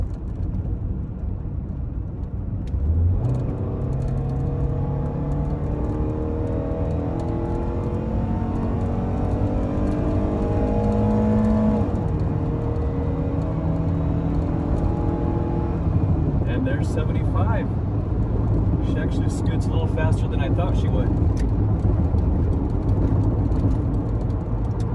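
A 118-horsepower 1.6-liter four-cylinder car with a six-speed manual and 238,000 miles revs hard and climbs in pitch through the gears, with a shift partway through, loud and steady from inside the car.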